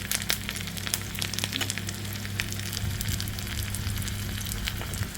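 Dried red chilies, curry leaves and green chilies sizzle and crackle steadily in hot oil, a close, continuous frying hiss with small pops and no voices.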